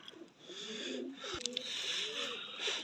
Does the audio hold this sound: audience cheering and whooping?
no